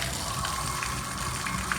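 Water runs from a bathtub mixing faucet freshly fitted with a Price Pfister 974-042 cartridge, a steady close hiss and gush that continues unbroken with no talking.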